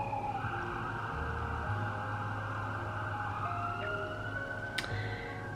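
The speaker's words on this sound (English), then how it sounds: "Siren?" A distant emergency siren wails steadily over a constant low background rumble, with no other distinct sounds.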